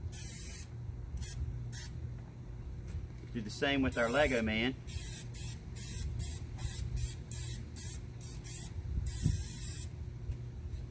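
Cooking spray hisses from a can into the inside of a concrete craft mold in one steady burst of about a second, near and clear, while someone talks before and after it.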